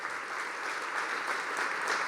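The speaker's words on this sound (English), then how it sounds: "everybody please, a great applause for Sydney" Brief, faint applause from an audience at an Italian anniversary celebration, a soft continuous patter of clapping lasting about two seconds.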